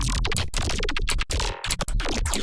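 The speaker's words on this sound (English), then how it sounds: "So you get 15 bass glitches" Bass glitch samples for dubstep production play one after another: dense, choppy digital bursts with abrupt cuts and short gaps, loud and stuttering.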